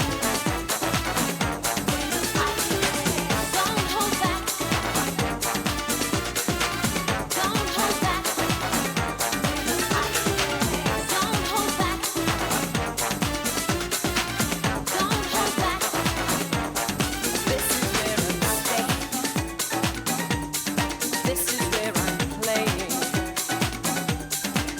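Madonna's "Buenos Aires" remix plays continuously at full volume, a dense, driving dance track with a steady pounding beat throughout.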